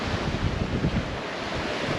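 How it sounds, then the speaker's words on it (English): Strong squall wind of about 33 knots roars across the microphone with steady surf and breaking waves coming from all angles, heard aboard a sailboat in the English Channel; loud, continuous and gusty, with no voices. "we're currently sitting at 33 knots of wind."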